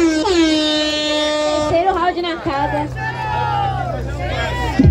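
An air horn blares over a noisy crowd at a rap battle, its long blasts cutting through loud cheering and shouting. Voices are heard underneath.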